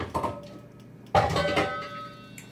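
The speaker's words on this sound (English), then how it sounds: "Throw your potatoes in there now." Diced potatoes are tipped into a pot of shrimp and bacon chowder, making a brief clatter followed by a louder tumbling splash as the pieces land in the pot.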